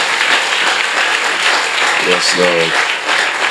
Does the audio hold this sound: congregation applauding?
yes